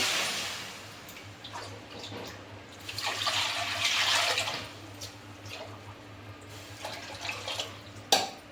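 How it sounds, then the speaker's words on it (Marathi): Water is poured into a kadai (wok) for cooking greens, a soft splashing rush that swells in the middle over a low steady hum, then trails into a few faint drips. "याच्यात आता कढईत पाणी ओतून घेऊ आपण"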